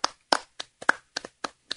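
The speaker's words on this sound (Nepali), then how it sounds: "ताली मैले पनि थपेँ।" Eight sharp hand claps at a poetry recital in a quick, slightly uneven rhythm, close and crisp, with brief silences between each clap.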